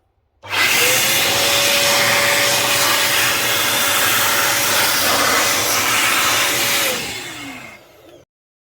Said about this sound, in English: let's just see what I can blow out of this